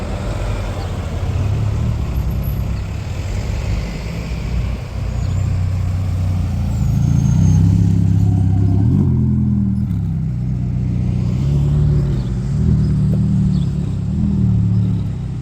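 A blue Alpine A110S sports car passes close by on a street. A continuous engine rumble rises and falls as the car goes past, over steady background traffic, with no voices.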